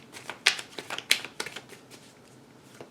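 Tarot cards being shuffled by hand close up, crisp papery riffles and snaps arriving in uneven bursts, alone without speech.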